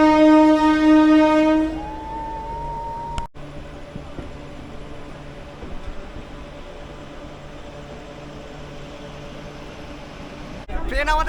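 A Howrah-to-Puri local train sounds its horn in a long tone, then pulls away with a steady rumble of wheels and carriages, loud and close; a second short horn comes at the end.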